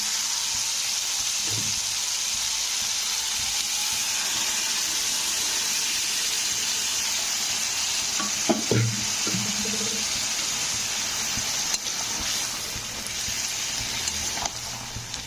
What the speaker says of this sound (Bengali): তো কপিটা দিয়ে একটু নাড়াচাড়া করে দিতে হবে